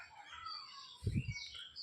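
A small bird perched on bamboo beside a river chirps faintly and repeatedly, heard from a boat on the water, with a brief low thump partway through.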